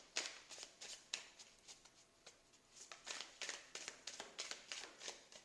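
Tarot cards are shuffled close to the microphone in a run of quiet, rhythmic riffling bursts, with soft card handling between them and no voices.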